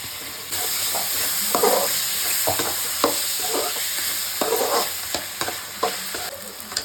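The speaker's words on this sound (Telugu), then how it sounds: "ఇప్పుడు టమాటో ఇంత ఫ్రై అయింది" Onion and tomato fry in a pan for a lady finger (okra) curry, with a steady loud sizzle broken by repeated scraping stirs of a spatula, no voices.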